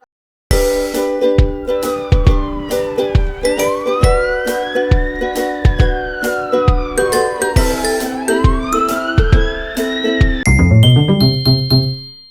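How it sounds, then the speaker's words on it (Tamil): A fire engine siren sweeps up and down in slow wailing cycles, layered over a cheerful musical track with bell-like chimes and a regular beat. "தீயணைப்பு வண்டி தீயணைப்பு வண்டி"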